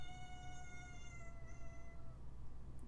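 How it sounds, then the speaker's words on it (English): A house cat lets out one drawn-out, wavering meow that slowly falls away, faint against a steady low background hum. "Griffin says, how the kitty's doing, Sean?"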